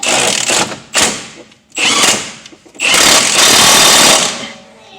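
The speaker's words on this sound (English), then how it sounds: "Alright, so we're going to go ahead and tighten this bolt." A bolt on a Volkswagen Eurovan being tightened during a CV axle replacement with a loud, close power tool, likely an impact wrench, firing two short rattling bursts and then a longer sustained one.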